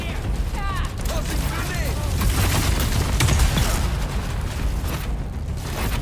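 A grenade goes off in the Dune Awakening video game amid a dense, continuous wash of loud rumbling combat noise, with mechanical clatter and a swell of booming in the middle.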